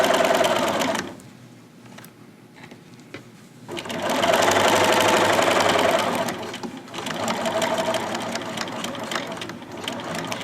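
Domestic sewing machine stitching a garment seam, running in two loud bursts of rapid mechanical whirring and clatter separated by a quieter pause, then a third steadier run near the end.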